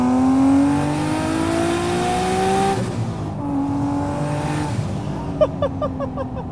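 A single-turbo 1991 Acura NSX engine, tuned to about 452 wheel horsepower, holds a loud steady rev with a rising tone, then drops off and climbs again, heard close with no talk.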